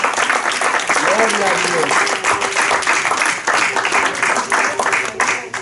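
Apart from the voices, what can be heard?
congregation applauding in church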